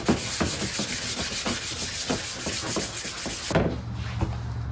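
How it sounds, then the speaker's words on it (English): Hand sanding a previously painted car spoiler with 400-grit wet/dry sandpaper: quick rhythmic rasping strokes, close and steady, stopping near the end to a quieter hum, with no speech. "this is 400 wet dry sandpaper."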